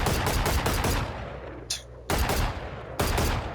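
Guardian rifle firing in a tactical shooter video game, rapid bursts of sharp shots with a brief gap between them and a short high chime in the middle, no voice over it.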